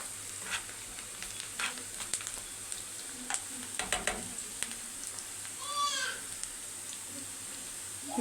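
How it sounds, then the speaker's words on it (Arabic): Onions frying in a pan for Egyptian koshari give a quiet, steady sizzle with faint crackles and occasional stirring clicks in a home kitchen. "بصوا البصل اهو يتحمر جميل"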